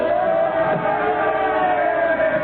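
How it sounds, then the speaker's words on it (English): A crowd in a radio drama yells and roars continuously, a dense mass of distant shouting voices with a steady tone running through it, heard on a narrow, old-fashioned broadcast recording. "The crowd, they're yelling something at..."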